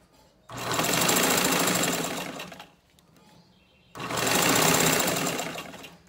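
A sewing machine stitches fabric for a homemade medicine and pad holder, two sustained whirring runs of about two seconds each separated by a short pause, close and fairly loud.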